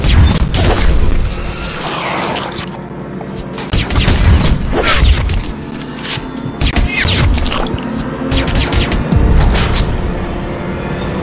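Gunshots from an executed attack in the stealth action game Hitman Absolution, a series of loud heavy booming shots in bursts with rumbling impacts and crashes between them, close and forceful.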